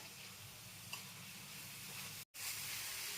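Sweet-and-sour sauce for crispy chicken is stirred in a hot frying pan, giving a steady close sizzle with soft scraping and one brief cut to silence partway through.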